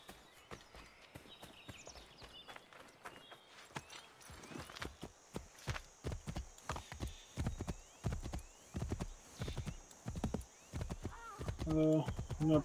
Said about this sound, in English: I'm gonna borrow one of these guys' horses.